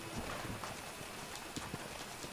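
Steady clip-clop of horse hooves trotting in an even rhythm over a constant noisy background, from the video game Red Dead Redemption.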